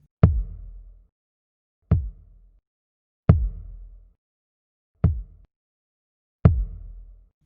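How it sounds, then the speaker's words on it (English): Compressed kick drum played solo in five evenly spaced, punchy low thumps, each with a short, controlled tail and clean silence between. "Here's the same thing with the kick drum."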